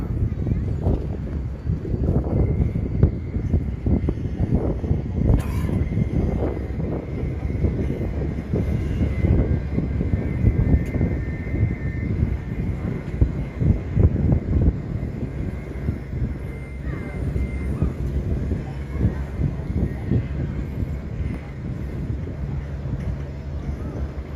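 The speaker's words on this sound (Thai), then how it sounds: "เรือโป๊ะหนักทวนน้ำมาแล้วนะครับ" Tugboats tow a heavy barge upstream against a swollen flood current on a river, their engines giving a steady, loud low rumble and drone throughout with water rushing beneath.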